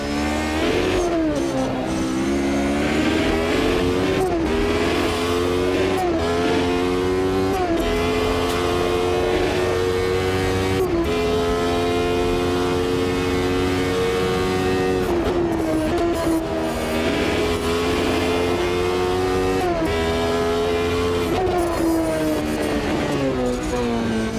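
A hypercar engine in a racing simulator roars steadily on track, its pitch climbing through gears and dropping on braking in repeated cycles, close and loud, with almost no talk.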